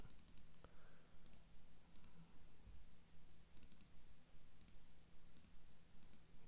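Mouse clicks in quick clusters while text is highlighted in Google Docs, light and close, repeating at a steady pace over a soft rhythmic background hum.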